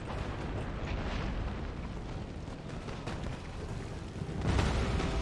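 Cannon artillery in Empire: Total War rumbles as a dense, continuous barrage of booms, with a heavier burst near the end and no talking.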